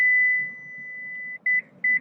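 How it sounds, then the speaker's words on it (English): Warning alarm from a Lexus LX 600 during power seat operation: a long steady electronic tone that fades, then two short loud beeps, clear and close with no talk. "If you let go at any point, you're going to hear an alarm."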